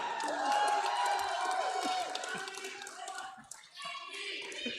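An election night crowd for the Manitoba NDP cheers, claps and whoops from a distance, the noise sustained and moderately loud before easing slightly, with voices speaking over it.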